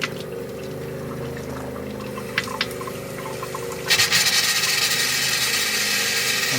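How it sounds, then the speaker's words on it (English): A hot water tap in a 2022 Mercedes Sprinter 4x4 camper van begins to sputter and spit as trapped air is pushed out of the water heater, a sudden, loud, gurgling, hissing burst after a low, steady pump hum. "it's just displacing the air out of the water heater. Sounds like it's farting."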